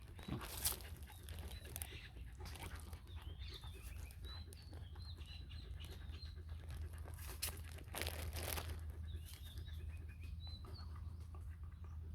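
A dog chews and tears at meatballs close by, with wet, crinkling bites. Birds chirp intermittently in the background outdoors.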